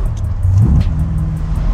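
A 1981 Corvette ZL1 427ci engine rumbles loudly up close, with a brief rising rev partway through over a steady low drone.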